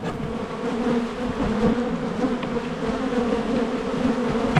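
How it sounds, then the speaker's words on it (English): Disturbed honey bees buzz from an opened Langstroth hive, a dense continuous drone that stays loud and close throughout. "And I have a very annoyed hive on my hands."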